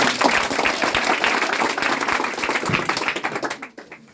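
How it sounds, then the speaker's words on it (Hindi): An audience gathered for a spiritual question-and-answer session breaks into dense, close applause that holds strongly for about three seconds and then quickly tapers off to silence. "इनके लिए भाई ताली बजाओ।"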